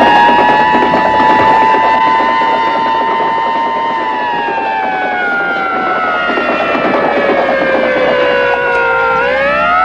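A fire engine siren wails loudly and steadily with a sustained tone that slowly falls in pitch, then bends sharply at the very end.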